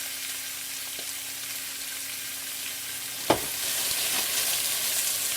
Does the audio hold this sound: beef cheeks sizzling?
yes